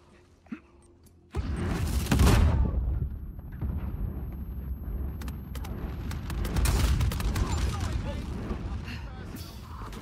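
Grenade explosions in Uncharted 4 multiplayer, a sudden loud blast after a near-silent start, followed by further booms and crackling gunfire with a voice talking over it.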